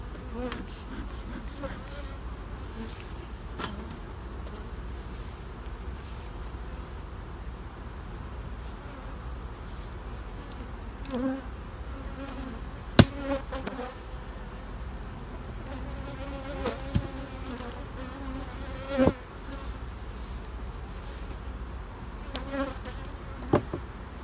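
Bees buzz steadily around a hive, a low continuous drone with individual insects zipping close by now and then, no voices.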